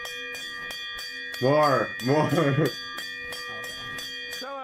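A bell rings with steady repeated strikes through a streamer's birthday livestream segment, ringing alone before loud voices break in over it and then continuing faintly beneath.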